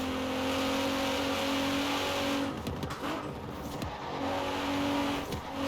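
Engine of a race-tuned car in Forza Horizon 4, driven with a wheel, holding a steady tone then dropping and revving back up through gear changes, loud and continuous with no talk.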